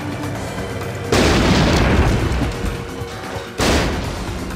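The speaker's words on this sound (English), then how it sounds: "so let's start throwing grenades" Grenades going off inside a facility in the game XIII: two heavy, booming blasts a couple of seconds apart, each leaving a long rumbling, crashing tail of debris and reverberation.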